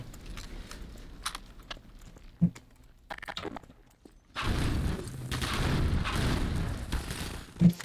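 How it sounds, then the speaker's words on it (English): Gunfire in Half-Life 2: Lost Coast: a few sharp, scattered shots at first, then a loud, sustained burst of firing and rumbling action, with no voices. "That's kind of loud for me. That's shooting."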